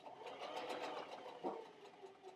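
A sewing machine stitches a fabric seam on a bowl cozy project with a fast, steady whirring rattle, close and continuous with a brief bump midway, and no voices.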